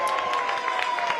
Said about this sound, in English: sarcastic cheers will not be making her feel any better.